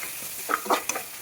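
Tomatoes sizzle steadily in a hot pan while a spoon stirs them, with a few brief scraping strokes over a constant frying hiss, close and fairly loud, with no voices.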